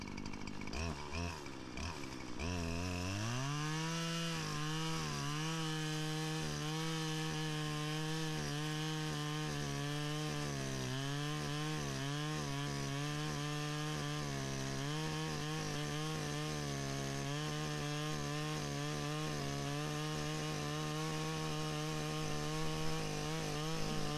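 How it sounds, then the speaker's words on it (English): Chainsaw cutting out a tree stump while clearing a mountain overlook trail: the engine starts, climbs to a sustained high-pitched whine and holds, loud and close, with small pitch dips as the chain bites into the wood. "now I'm going to cut this stump out"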